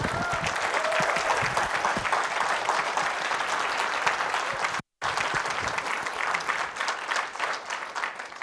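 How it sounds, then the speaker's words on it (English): An audience at the BSidesDFW 2019 security conference claps, steady dense applause from a crowd that continues for several seconds with a brief cut midway, then starts to taper off. "So just a big round of applause for everybody that helped us out today"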